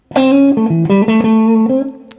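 An electric guitar plays a short melodic phrase of sustained single notes through a Yamaha THR100HD amp with a dry tone, close and loud with no accompaniment.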